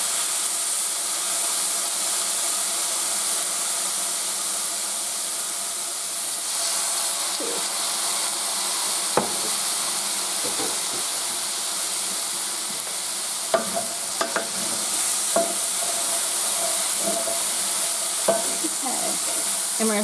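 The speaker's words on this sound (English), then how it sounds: "we're going to stir fry for about 5 minutes" Chicken fried rice with soy sauce stir-frying in a wok, giving a steady hiss and sizzle with scattered scraping stir clatters building toward the end.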